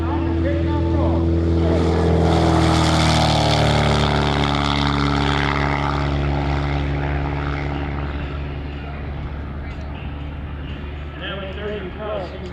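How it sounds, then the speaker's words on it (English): Propeller engine of an aerobatic competition airplane at an airshow roars loudly on its takeoff roll, a strong droning whine that fades slowly as it pulls away, with a commentator talking over it. "here he goes on the takeoff roll"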